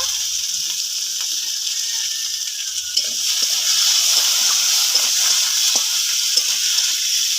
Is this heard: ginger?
yes